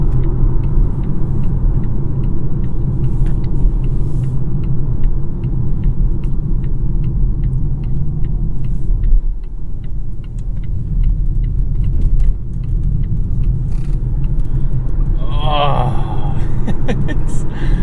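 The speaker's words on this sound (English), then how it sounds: "It's so much fun to drive a daily driver like this that's so fast that you can just get away from a stoplight" A fast electric car, a daily driver with plenty of battery range, drives along with a steady low road rumble and tyre noise filling the cabin, continuous and fairly loud, with a brief higher whine near the end.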